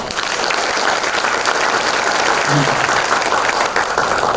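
A large audience at a Korean political speech event applauds loudly and continuously, thick unbroken clapping from start to finish.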